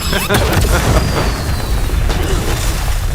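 A rocket blast from a Black Adam action trailer booms loudly, with a burst of crashing debris and a rumbling low roar that fills the whole moment.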